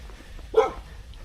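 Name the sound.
dog barking at a mountain campsite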